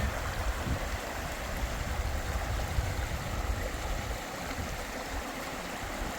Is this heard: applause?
no